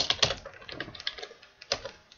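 Keys clatter on a computer keyboard as a command is typed into Minecraft chat, a quick uneven burst of close, light clicks with short pauses between strokes.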